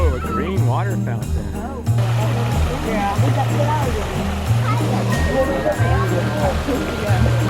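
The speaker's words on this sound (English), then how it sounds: "Whoa, a green water fountain." A green water fountain at a Christmas lights display in Forest City, North Carolina splashes in a continuous rushing wash, mixed with people talking nearby and steady low music tones.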